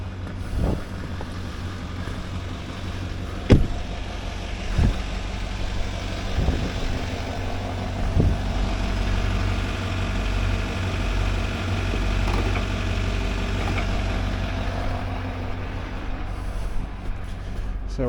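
A 6x6 truck parked and idling, giving a steady low engine rumble throughout with occasional mechanical clicks and creaks, close by, with no talk.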